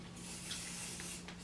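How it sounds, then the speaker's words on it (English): Hairspray is sprayed onto hair to set baby hairs, a soft continuous aerosol hiss of about a second and a half with a brief extra puff near the end, close and fairly quiet. "I'm going to go ahead and spray a little bit of hairspray"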